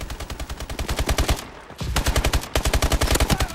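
Rapid automatic gunfire in the shooter game Call of Duty: Advanced Warfare, a free-for-all match, with two close, loud, evenly spaced bursts broken by a brief pause.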